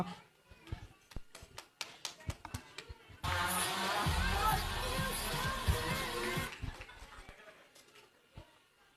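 An audience at an awards ceremony breaks into a dense, loud wash of applause and crowd noise that lasts about three seconds, with scattered taps and talking before and after it.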